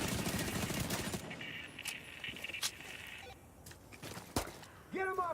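SMG fire at close range in The Division 2: a dense burst of rapid automatic shots at the start, followed by scattered single cracks and clicks from the fight.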